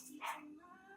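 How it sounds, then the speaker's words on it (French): A shih tzu gives a single faint, quick bark, like a small dog trying to play guard dog, followed by a brief whining tail in a quiet room. "il essaie, c'est un shih tzu, mais il croit que c'est un chien de garde"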